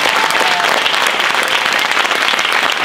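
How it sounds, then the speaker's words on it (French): Loud, sustained applause at a sustainable tourism forum in Mios, honouring the park teams who organised the day: thick, even clapping from a large crowd filling the whole stretch without a break. "C'est vous demander simplement d'applaudir Caroline, Béatrice et toutes les équipes du parc qui se sont battues pour organiser cette journée."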